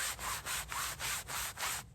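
Carinthia MIG 4.0 cold-weather parka fabric rustling, about six rhythmic swishing rubs in quick succession, close and crisp, with no voices.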